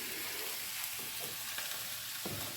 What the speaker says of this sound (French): Et je vais remuer. Je vais les laisser fondre.